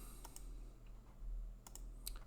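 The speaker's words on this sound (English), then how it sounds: "we're just going to start typing" Fingers type a few quick, light keystrokes on a computer keyboard while setting up fermenter automation, with soft, close clicks in short scattered bursts over a quiet background hum.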